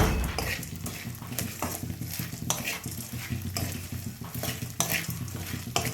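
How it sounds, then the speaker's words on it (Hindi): Edible gum (gond) fries in a pan of oil, a steady close sizzle with repeated scrapes and stirs of a utensil against the pan, no voices. "अब हम गोंद को इस तरह से तल लेंगे"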